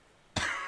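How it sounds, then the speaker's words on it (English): A character in the video game Disco Elysium coughs once, a single sudden harsh burst that starts abruptly after a quiet moment and trails off rough and breathy. "He coughs once more, then puts his hand on his belly."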